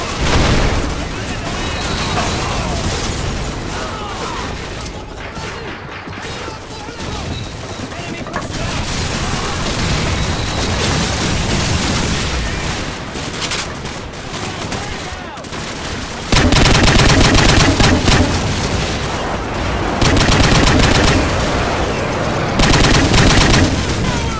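Call of Duty 4 combat in the War Pig mission brings sustained, loud gunfire and machine-gun bursts with booming explosions throughout. Shouted game voices call out targets over the din, and the battle gets louder near the end.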